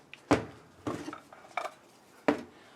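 An aluminum pan or tray clanks four separate times, sharp metallic knocks with short ringing tails, as it is set on a heating Blackstone griddle, close and clear against a quiet background.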